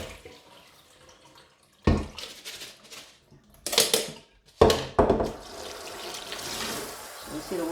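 Rinse water poured off rice in a cooking pot, coming in a few separate splashing bursts that run into a longer steady pour near the end, fairly close.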